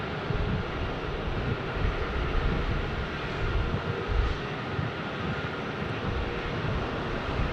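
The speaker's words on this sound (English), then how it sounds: "This 737-800 in from Seattle for Delta Airlines." A Delta Airlines Boeing 737-800 arriving from Seattle at Phoenix Sky Harbor airport produces a loud, broad, continuous jet-engine roar that holds steady throughout, with no talking over it.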